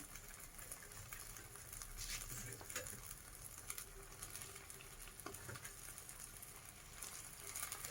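Pieces of katla fish frying in hot oil for a Bengali macher kalia, a steady close sizzle with occasional stirring clicks throughout, no voices.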